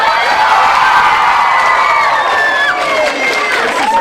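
Children in a preteen audience cheer and shout loudly at a talk, a sustained wash of excited whoops and high voices that holds steady from start to finish.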